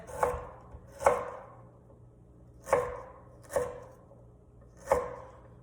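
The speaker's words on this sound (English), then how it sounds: "what I'm gonna do is roughly chop it" A knife chops a knob of ginger roughly on a board, five sharp close knocks at uneven intervals with quiet gaps between them.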